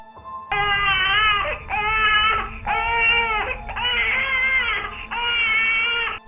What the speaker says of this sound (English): Mary yet again wakes up to the sound of her baby crying